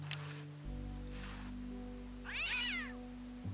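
A cartoon cat in the Day of the Tentacle adventure game lets out one drawn-out, wavering yowl over a low steady music bed, preceded by brief soft rustles.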